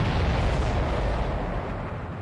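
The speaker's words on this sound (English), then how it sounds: "All of the missiles have been destroyed." Explosions as missiles are destroyed in a game: a dense, continuous rumbling roar of blasts, loud and close, with heavy low-end booming that holds steady for the full stretch before easing slightly at the end.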